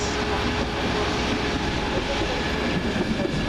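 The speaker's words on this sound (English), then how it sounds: "the 10:53 Virgin Train East Coast service from Edinburgh Waverley to London King's Cross" A Virgin Trains East Coast service from Edinburgh Waverley to London King's Cross passing through Doncaster. It is a steady, broad rumble and rush of rail noise with no clear onsets, heard moderately loud throughout.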